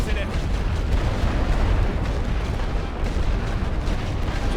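Dense artillery bombardment in the First World War trench game Elite Great War Western Front, a continuous loud rumble of overlapping blasts with no gaps.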